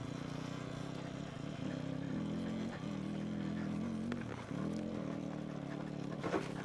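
Whining electric motor of a Talaria MX4 electric dirt bike ridden in sport mode up steep desert terrain, a steady close drone that surges and dips with throttle, with wind and rattling over it.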